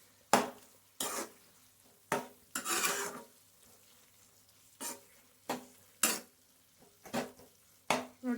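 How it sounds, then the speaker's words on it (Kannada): Repeated scraping strokes of a spoon through potato gravy with ginger and garlic in a metal pan, about ten separate clanking stirs at an uneven rhythm, close and fairly loud, with no talking. "ಈ ಥರ ಮಿಕ್ಸ್ ಮಾಡ್ತೀರ"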